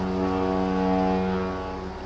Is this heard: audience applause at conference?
no